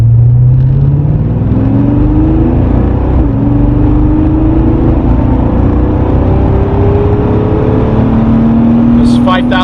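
A Porsche launching from a standing start at full throttle, its engine note climbing steadily in pitch as it pulls hard and loud, with a voice briefly audible near the end.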